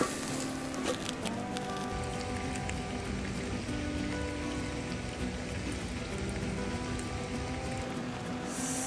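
Continuous crackling sizzle of butter frying in a hot pan at a sub-zero campsite, steady and close, with a faint hum beneath and no speech.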